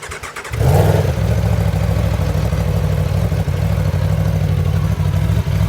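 A 2020 Aprilia Tuono V4 1100 Factory motorcycle with an Akrapovic slip-on exhaust idles steadily and loudly at a standstill after a quick start, a low throbbing drone with only slight changes in revs.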